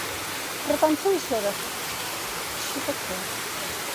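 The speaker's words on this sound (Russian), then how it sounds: "я очень рада, что все-таки наконец-то пошел дождь" Heavy rain and water pour down in Gurzuf, Crimea, a steady broadband wash of rainfall and runoff, with a few brief spoken words over it early on.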